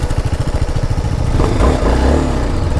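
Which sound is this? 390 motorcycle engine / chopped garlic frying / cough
390 motorcycle engine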